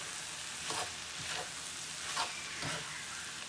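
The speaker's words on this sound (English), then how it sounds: "now I'm gonna add the bacon" Bacon frying in a pan alongside a corn side dish with parsley, a steady soft sizzle broken by a few faint scraping stirs, close and fairly quiet with no talking.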